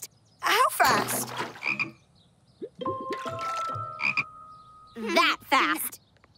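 Cartoon frogs croak in three bursts, loud and close, with warbling, bubbly cartoonish calls and sticky gloppy sounds between them, and no talking over them.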